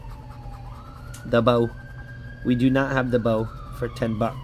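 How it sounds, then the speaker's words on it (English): A siren wails steadily in the background while someone talks in short bursts over it. "Sorry about the sirens"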